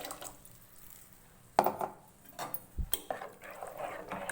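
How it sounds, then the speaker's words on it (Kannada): Cooking water saved from boiling greens is poured into ground masoppu sambar paste, giving a few splashy, dripping bursts and light clinks against the vessel, close and moderately loud with quiet gaps between. "ಇವಾಗ ಇದಕ್ಕೂ ಕೂಡ ನೀರು ಸೇರಿಸ್ಕೊತಾ ಇದ್ದೀನಿ"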